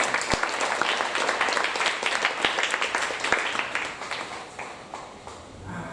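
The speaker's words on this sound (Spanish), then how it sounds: "Denle un fuerte aplauso al Señor." A church congregation applauds in praise during a Sunday service, a dense wash of many hands clapping that fills the room and tapers off near the end, with a few sharper claps standing out.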